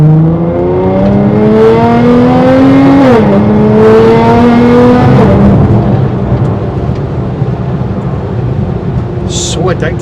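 A 640bhp Nissan GTR on air ride accelerating on wet roads, a loud, rising engine note climbing through gears with a brief dip at a shift, heard from inside over road and rain noise.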